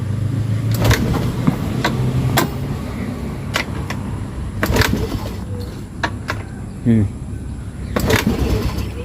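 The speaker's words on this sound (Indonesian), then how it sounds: "Tapi kita tes dulu dengan cara kita engkol" A Honda Beat scooter with weak compression and a no-start fault is kick-started repeatedly, giving a series of sharp mechanical kicks and sputtering turnover bursts close by, with people talking around it.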